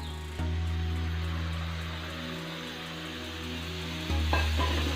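Wheat halwa is stirred in a pan, a steady low bubbling and scraping with a soft sizzle, close and fairly quiet, with a slight surge near the end.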